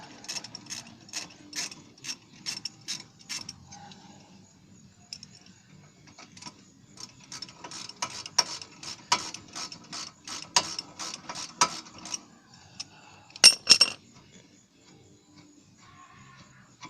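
Ratchet working on the front brake caliper bolts of a Honda Civic, bursts of quick close clicking with pauses between, then a short louder rattle near the end.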